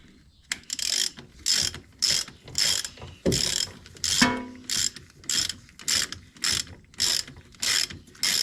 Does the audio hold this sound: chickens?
no